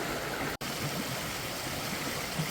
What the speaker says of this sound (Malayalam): ഈ കാണുന്നൊരു വെള്ളച്ചാട്ടം ഈ തോടിൻ്റെ ഒരറ്റത്തായിട്ടുണ്ട്.